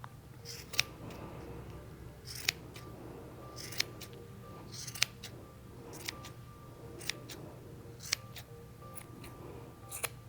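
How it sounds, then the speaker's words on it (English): Scissors snip excess yarn off a pom-pom during craft work, a series of sharp, crisp clicks spaced roughly every second, close and fairly quiet over a low steady room hum. "So I'm just going to take this and start trimming off my excess, all the parts that are too long."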